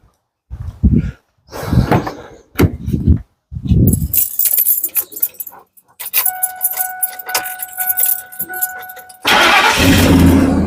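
A 2008 Chevrolet Impala being started: keys jangle and a door thuds, then the starter cranks and the engine catches into a loud, steady run. A voice talks in short bursts before the start.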